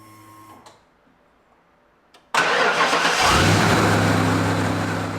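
A van engine cranks and catches at once, then settles into a loud, steady running idle that holds to the end, after a short stretch of near silence and a faint click.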